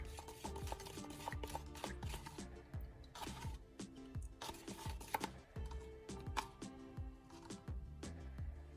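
A cement and varnish mixture thinned with a few drops of acetone is stirred in a container, giving repeated close scraping and clinking strokes in an uneven rhythm, with no talk.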